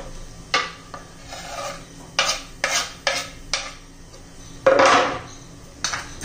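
A spoon stirs fresh coriander into bottle gourd zunka made with gram flour in a pan. Repeated scraping strokes clatter against the metal about eight times in a steady rhythm, with a faint sizzle underneath and no voices.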